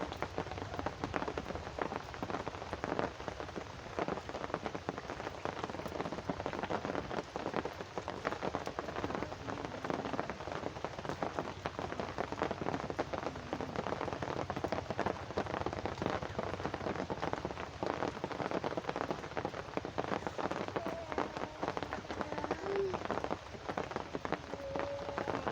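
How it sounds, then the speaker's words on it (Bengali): Steady rain on a rainy day, a continuous close patter of drops on surfaces with faint scattered ticks, even and unbroken from start to finish. "বৃষ্টি তো সেই প্রথম থেকে পড়েই যাচ্ছে"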